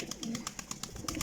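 Golden pigeon cooing in quick, soft repeated notes, close but fairly quiet, with faint chirps from other birds around it and no talking.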